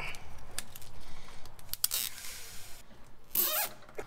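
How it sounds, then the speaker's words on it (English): Zip ties are ratcheted tight around wiring in an FJ40 during a Holley Sniper install, giving quick close zipping rasps and clicks, with one longer pull near the end, over low background noise. "Let's do a couple zip ties real quick."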